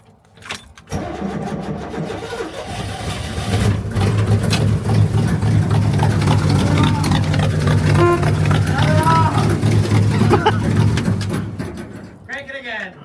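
An old small-block V8 with HEI ignition cranks, then settles into a loud, steady idle lasting several seconds before cutting off, with bird calls in the background.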